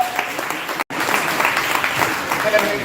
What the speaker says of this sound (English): give Ms. Green another round of applause